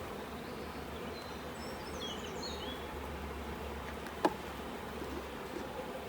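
Honeybees buzz softly and continuously around a hive in a beekeeping yard, with a single sharp click near the end and faint birdsong above the hum.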